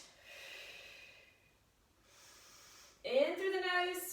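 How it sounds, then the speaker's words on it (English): Two soft, breathy exhalations during a standing Pilates spinal twist, each lasting about a second, with a gentle pause between them. A louder voiced sound cuts in at the end. "Breathing out."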